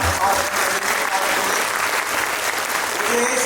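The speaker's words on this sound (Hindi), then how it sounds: "एक बार दोस्त तालियों से हाथों का" Loud, dense applause from a Ramlila audience fills the whole stretch, a steady roar of many hands clapping close by with no pause.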